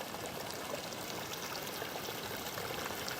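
Water trickles steadily at a coastal bushland lookout, a continuous close splashing babble that stays even throughout with no voices over it.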